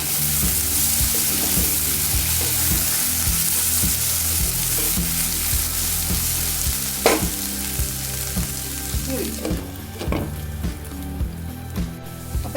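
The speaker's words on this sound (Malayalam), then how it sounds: "നോക്കി നമുക്കൊന്ന് ഇളക്കി കൊടുക്കാം." Onions sautéing in a pan, sizzling loudly and steadily while a spoon stirs them in repeated scraping strokes, with a few clinks toward the end.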